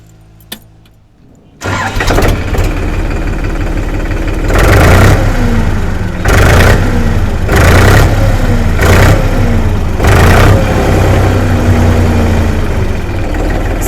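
A Powertrac Euro 42 tractor's 44 hp diesel engine cranks and catches after a short quiet lead-in, then runs loud and steady close by, with a low constant idle drone and several bursts of revving.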